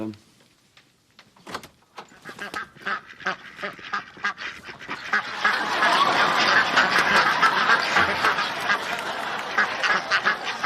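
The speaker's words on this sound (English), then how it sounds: "ducks in the bathroom" Ducks quacking indoors in a bathroom: sparse honks at first, building into a dense, loud, continuous chorus of overlapping quacks, with some voices mixed in.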